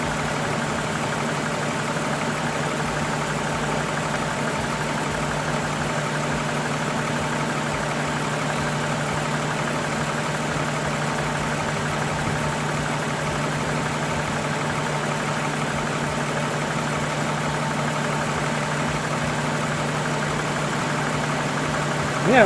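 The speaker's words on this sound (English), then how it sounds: "I just heard the fans kick on high." A car engine idles during an A/C recharge, with the radiator cooling fans running on high. A steady, continuous mechanical drone and whir holds for the whole stretch.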